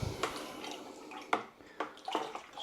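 Hop powder being stirred into a homebrew batch with a sterilised paddle, giving soft sloshing and watery swirls with a few brief splashy accents, close and fairly quiet.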